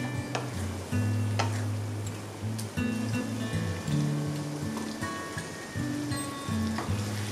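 Lote fish frying with softened onions and spices in a pan, a constant crackling sizzle with scattered ticking pops and light stirring knocks, close and fairly loud throughout.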